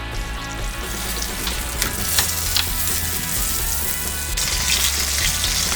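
Venison backstrap sears over hot coals with a loud, continuous close sizzle and crackle, rising slightly toward the end.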